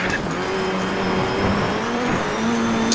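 A rally car in a racing video game, driven with a joystick, its engine revving loud and close with shifting pitch as it accelerates, and a brief tire squeal, heard alone without talk.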